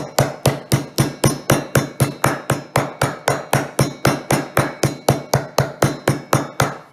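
Rapid, regular pounding of a meat mallet on pork for schnitzel, about three to four solid thuds per second, loud and close, continuing steadily without pause.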